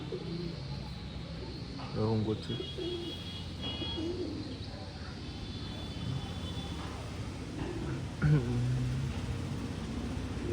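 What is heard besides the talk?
pigeons cooing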